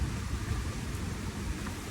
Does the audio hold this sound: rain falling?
yes